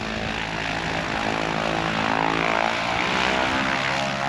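A Falke light propeller aircraft taxis close by, its engine holding a loud, steady droning hum with a constant pitch and no voices over it.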